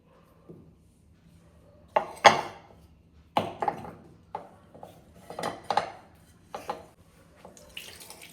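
Washed sweet potatoes tumble into a steel pressure cooker in a home kitchen, giving a string of close, uneven clunks and metallic knocks with light watery splashes between quieter pauses, and no talking.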